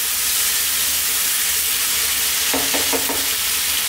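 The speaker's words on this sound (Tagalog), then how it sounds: "So halin lang natin sandali." Goat heart strips sizzle in a hot pan under a steady frying hiss, with a short burst of scraping stirring strokes near the end.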